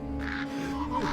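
A crow gives a single harsh caw, fairly close and clear over a steady low background hum.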